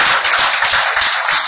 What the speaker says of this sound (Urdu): کھڑے ہو جائیے ایک بار تالی بجائیے